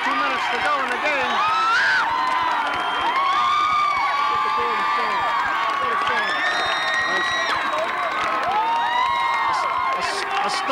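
Large crowd at a 1989 Illinois high school state playoff football game, a steady loud roar of cheering and shouting with excited whoops and a commentator talking over it throughout.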